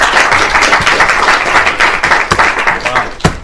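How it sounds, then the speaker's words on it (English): Audience applause at a 2019 Future Sync tech conference in Plymouth, welcoming a speaker on stage: dense, steady clapping from a sizeable crowd, loud and close, holding evenly throughout with a few sharper claps standing out near the end. "Please give him a massive round of applause."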